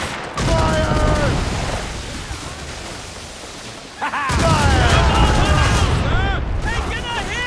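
Naval cannon fire during a sea battle in Assassin's Creed Rogue, with dense booming volleys and crackling blasts continuing throughout, shouted orders from crew voices heard over the barrage.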